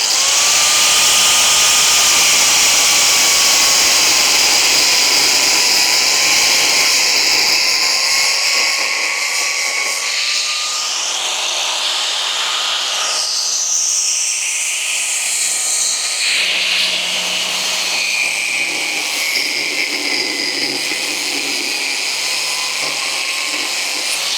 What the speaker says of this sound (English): I'm going to cut down through the nut, because the nut is not moving.